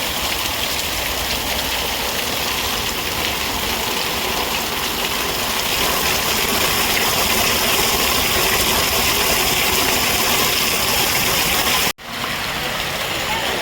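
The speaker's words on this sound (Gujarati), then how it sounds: "આજે મોટા કુટવડામાં ધોધમાર વરસાદ ચાલુ છે" Torrential downpour in Mota Kutvada village, Mahuva taluka, Bhavnagar district, a steady dense broadband roar of heavy rain and running water, loud and continuous, with a brief dropout near the end.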